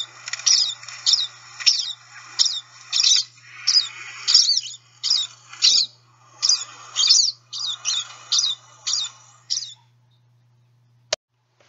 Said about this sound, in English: they produce these squeaky chee chee calls